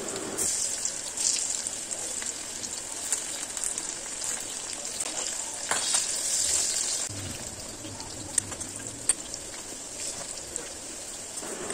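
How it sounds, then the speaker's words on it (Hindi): Marinated vegetable fingers frying in oil give a steady, even hiss and crackle, close and moderately loud, running throughout with a few faint clicks and no voices. "मैरिनेटेड भेजीज को फ्राई कर लेंगे।"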